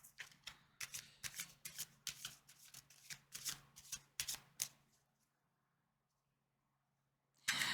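Tarot cards being shuffled by hand in a quiet room, a quick run of soft riffling bursts for about five seconds, then silence before a brief louder rustle at the end.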